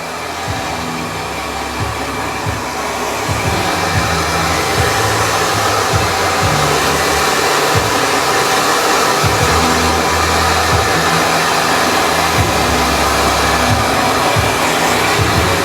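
A hair dryer blows steadily and loudly up close, a continuous airy roar with a humming motor tone that fluctuates slightly.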